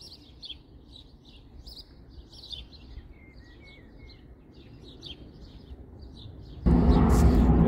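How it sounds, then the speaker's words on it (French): Birds chirp and trill steadily at a distance, a busy outdoor chorus, until a loud burst of noise cuts in near the end. "Vous entendez les oiseaux?"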